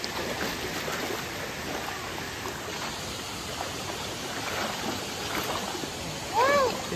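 People wade through deep water outdoors, a continuous wash of swishing and splashing close by. A short vocal sound cuts in near the end.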